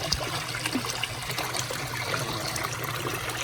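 A slow trickle of water spills from the overflow of an above-ground koi pond, giving a steady, soft, continuous splashing with no voices.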